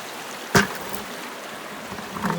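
Creek water flowing at a gold sluicing spot, a soft steady trickle and babble with one sharp splash or knock near the start, close and quiet.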